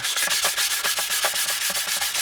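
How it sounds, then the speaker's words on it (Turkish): Wet sandpaper rubs back and forth over a sun-damaged plastic Volkswagen Transporter T4 tail light, a quick, even rhythm of rasping strokes, close and fairly loud, with no talking. "Şu şekilde suyu sıkarak bu elinizdeki zımparayı şöyle yapın arkadaşlar."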